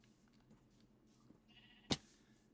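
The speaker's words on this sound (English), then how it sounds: "And there's the sheep, which I don't like." A single sheep bleats once in the Minecraft video game, a short, sharp bleat late in an otherwise quiet stretch, with faint background sounds around it.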